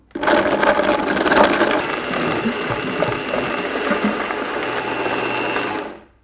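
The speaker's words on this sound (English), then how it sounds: "Now I'm not going to turn the Vitamix up all the way, otherwise you're going to over process" A Vitamix blender at a medium setting grinds sourdough bread into breadcrumbs, giving a loud, steady motor whir with gritty crunching that starts abruptly, runs for about six seconds, then winds down.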